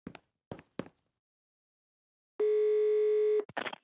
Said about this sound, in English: All I need is one more phone call to the lab.